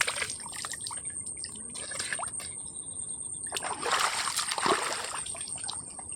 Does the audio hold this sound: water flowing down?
yes